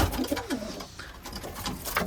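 Pigeons coo softly nearby, low throaty calls repeating over a faint background murmur.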